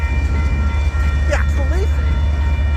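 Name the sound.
Union Pacific 5833 freight train passing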